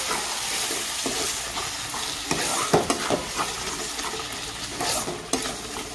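A yogurt-based spice gravy is stirred and fried in a pan: a continuous sizzle with repeated spoon scrapes and knocks against the metal, some sharper than others, close and clear with no talking.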